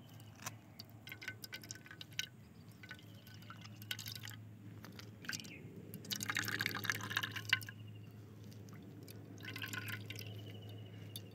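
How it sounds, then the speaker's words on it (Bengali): Juice from homemade abir colour drips while being strained, soft close drops falling at an irregular pace, quiet and without talking. "এই যে রসটা পড়ছে অনেকটাই হয়ে গেছে"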